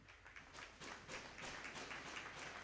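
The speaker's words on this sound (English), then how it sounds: "Nice round of applause from the crowd" A crowd at a bantam youth ice hockey game in a rink applauds in a steady, moderately distant wash of clapping that builds after the first half-second and holds on without anyone speaking.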